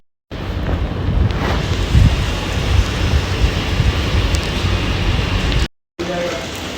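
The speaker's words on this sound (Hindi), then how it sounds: "मज़ेदार बारिश हो रही है" Heavy rain pours in a loud, steady roaring wash close by, heard from a balcony, with wind buffeting the microphone and a brief cut-out near the end.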